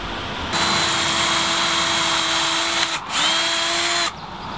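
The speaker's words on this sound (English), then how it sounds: "So I'm going to take a drill bit here and pre-drill some holes." A power drill whines steadily as it pre-drills screw holes in a board for a mailbox support, running about three and a half seconds with a brief dip in speed partway through.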